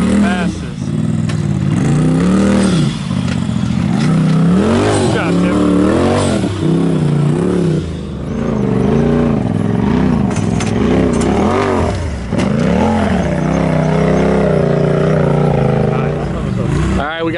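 Off-road race truck with a new turbo revving hard during pre-running over rocky terrain, loud wavering engine pitch rising and falling repeatedly, with people talking over it.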